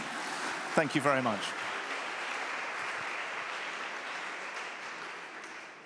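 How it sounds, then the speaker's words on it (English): A conference audience gives a climate security panel a steady, even round of applause that continues for several seconds, with a brief spoken thanks heard over it near the start. "You can give them another round of applause just to encourage them"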